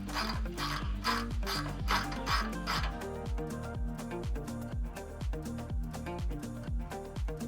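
A ratchet tightening roof rack bolts, with rapid close metallic clicking in quick repeated strokes that run steadily throughout and no talking.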